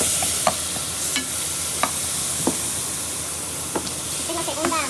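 Chicken pieces frying in butter in a pan for Indian butter chicken, a steady loud sizzle with occasional sharp spatters and utensil clicks, no talking over it.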